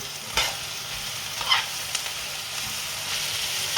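Mallow leaves being stirred and toasted in a pan for Turkish ebem gömeci kavurması: a soft, steady sizzle with a few scraping strokes of the spoon, moderately close, with no talking.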